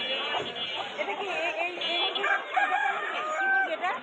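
A hill chicken, a nine-month-old rooster, crows repeatedly at a busy bird market in Mirpur, its calls rising over constant background chatter and nearby voices.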